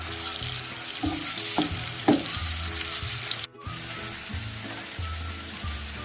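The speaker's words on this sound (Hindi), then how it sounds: "आधा कप ऑयल का प्याज डाल दिए मैंने, प्याज को फ्राई करेंगे" Sliced onions fry in half a cup of hot oil, hissing and sizzling steadily up close, with occasional stirring clatter and a brief drop in the sound partway through.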